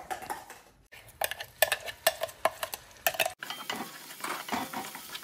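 Shrimp curry is stirred in a pan with a metal spoon: a series of sharp clinks and scrapes over a soft sizzle, close and clear, easing into a steadier scraping stir toward the end, with no talking.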